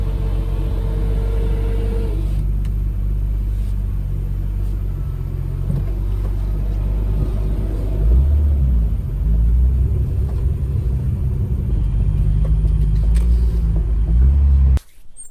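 A 1991 Alfa Romeo SZ drives along with a loud, steady low engine rumble, the drone deepening and swelling partway through as it accelerates before cutting off abruptly.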